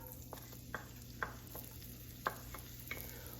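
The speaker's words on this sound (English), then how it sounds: "now I've got olive oil and a little garlic butter warming up here. Then I want to add some onions to this" Onions cook in olive oil and garlic butter in a pan, giving a soft, low sizzle beneath several distinct clinks and scrapes of a utensil stirring.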